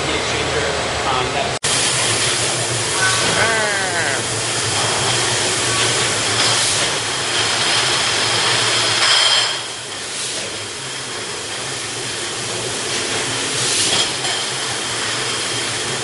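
Loud, steady hissing of a brewery heat exchanger fills the space, with a brief dip in level midway and faint clanks and rumble underneath.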